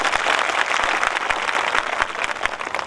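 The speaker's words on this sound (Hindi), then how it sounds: "जरा इनके लिए भी जोरदार तालियां होनी चाहिए" Loud, sustained applause from a crowd at an outdoor live show at Ramghat, with dense clapping and a few stronger claps poking through, and no speech.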